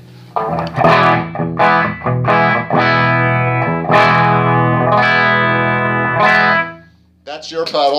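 Distorted electric guitar chords through a Jamtastik distortion pedal, played in a steady strummed pattern, loud and saturated with a smooth sustained tone, cutting off near the end.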